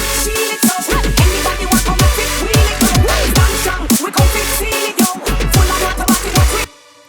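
A dense bass-music drop from a remix built in Ableton, now with a synth group layered on top, thumps in a driving rhythm of heavy kicks, swooping bass drops and bright full-band synths, loud throughout before stopping abruptly.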